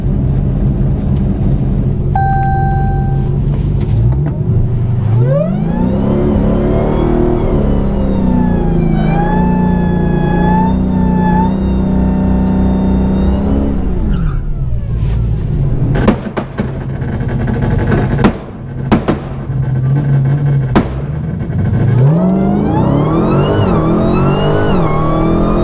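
A Dodge Hellcat accelerates hard down a track, its engine loud and close, pitch climbing steadily through first, second and third gears with abrupt drops at each shift, then a rough, buffeted stretch and another rising pull.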